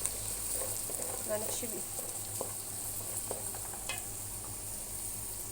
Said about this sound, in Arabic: نزلت بقى بالزيت وزبدة، وانزل عليها بالبصل. ابدأ اشوح